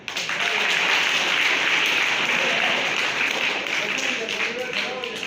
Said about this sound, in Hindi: उसके लिए भरपूर तालियां